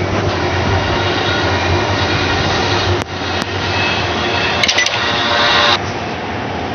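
A train in a Roblox Doors imitation game gives off a loud, steady rumbling roar with a faint metallic squeal and a few sharp clicks partway through, and no talking.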